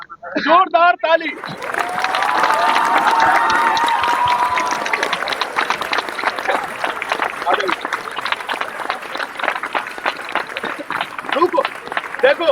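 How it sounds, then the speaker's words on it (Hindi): An audience at a crowded gathering bursts into loud, sustained applause after a brief spoken call. The clapping swells quickly and keeps going as a dense, close, steady roar of hands. "जोरदार ताली।"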